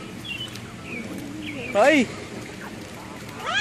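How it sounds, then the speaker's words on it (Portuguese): A flock of geese honks nearby, with one loud, harsh honk in the middle and another at the end over softer background calls, while a person speaks briefly. "Olha o tanto de ganso aqui"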